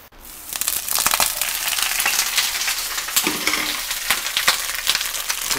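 Noodles and pak choy stir-fry in a hot pan, a steady sizzle with crackling, spattering oil and scraping stirs.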